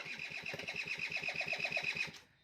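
A small motorcycle engine, freshly reassembled after repair and long parked, sputters and fires in a fast, even rhythm of pulses for about two seconds, loud and close, then cuts off abruptly.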